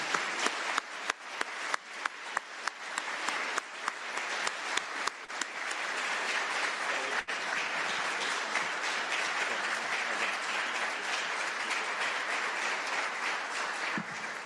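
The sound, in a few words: audience applause for debate candidates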